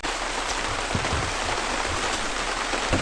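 Steady rain falls outdoors beside a Class C Chateau Sprinter 24LV motorhome, a dense continuous patter with occasional louder drops.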